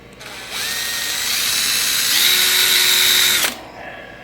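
A drill bit bores a hole in a steel quarter window bracket for a 1965 Ford Thunderbird convertible, a steady high whine rising as the motor spins up and holding for about three seconds before cutting off, close and loud.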